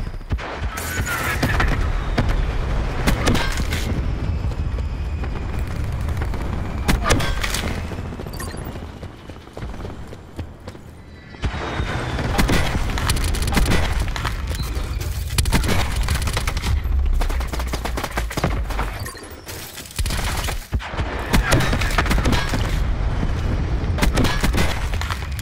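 Gunfire in the Call of Duty Black Ops 4 video game, loud and near, with sustained automatic bursts and dense shots almost nonstop through the clip, broken only by a few short lulls.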